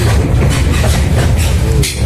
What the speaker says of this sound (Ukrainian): Пропоную приїхати зі мною сьогодні на трамвайчику.